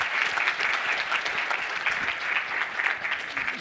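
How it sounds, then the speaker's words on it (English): Steady, dense applause from an audience at a company conference, greeting a group of high school students; continuous clapping throughout with no break. "Give a round of applause."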